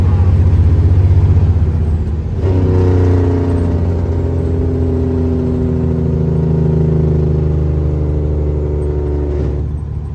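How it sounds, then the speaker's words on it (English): An old truck engine with a million miles on it revs steadily, its deep, loud rumble swelling as the revs rise after a couple of seconds and holding a throaty drone to the end. "I definitely love this truck. It sounds awesome and it runs awesome."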